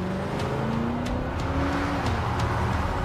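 A car engine drones steadily from inside the vehicle, its pitch climbing gradually as it accelerates harder, loud and continuous with no talk.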